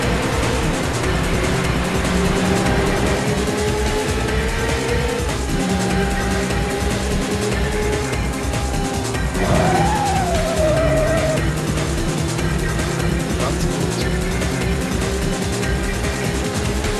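A racing car's engine drones steadily in the Rage Racer video game, its pitch climbing and sliding as it accelerates, with brief tire-squeal tones, loud and continuous with no voices.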